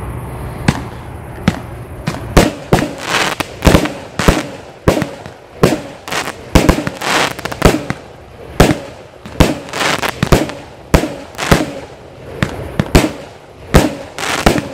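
Komet Dubai firework cake launcher, 25 shots of 20 mm, fires a rapid series of sharp loud bangs at a brisk irregular rhythm, each burst crackling briefly before the next, with no talking.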